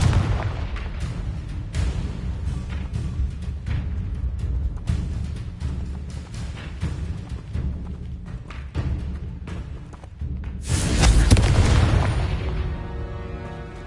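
Repeated Confringo fire spell blasts in Hogwarts Legacy land as a series of thuds and booms, followed by a bigger, louder explosion near the end that trails off, no voices.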